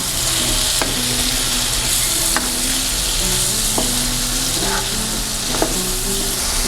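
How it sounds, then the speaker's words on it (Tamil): Chow chow (chayote) masala sautés in a pan with a loud, continuous sizzle, punctuated by periodic sharp scrapes and clinks of a spoon stirring, alongside a low steady hum. "அது நல்லா சேர்த்து வதக்கணும் கொஞ்சம் நேரம் வதங்கணும்"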